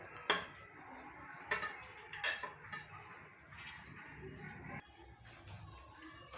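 Rice with pavta beans being served onto a plate, with soft metallic clinks and scrapes of a serving utensil against the plate, a few sharper taps near the start and a quieter shuffle of movement after.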